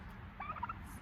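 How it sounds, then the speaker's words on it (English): A Narragansett heritage breed turkey gobbles once in a short, rattling burst at moderate distance over a quiet farmyard background. "This one is a Narragansett, so it's a heritage breed turkey."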